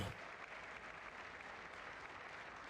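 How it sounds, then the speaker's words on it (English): Sustained applause from a large audience at a presidential State of the Union address, steady dense clapping lasting the whole moment with no voices on top. "I wasn't sure if anybody even on this side was going to applaud for that."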